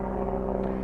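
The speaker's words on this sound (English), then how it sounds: "Excuse that helicopter flying above us," A helicopter drones steadily overhead at a car review of a 2011 Holden Commodore VE Series II SSV, a continuous low engine and rotor hum over the short stretch.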